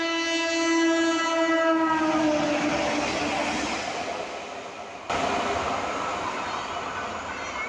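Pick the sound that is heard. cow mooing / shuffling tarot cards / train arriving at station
train arriving at station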